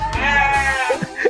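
Sheep on a sheep farm give a loud, close bleat, a single wavering cry that fills most of the moment, followed by a couple of short softer calls.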